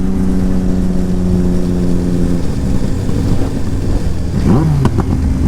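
A motorcycle cruising down the motorway gives a loud, steady engine drone with wind rush. A brief rising whine toward the end sounds like a gear change or a passing vehicle.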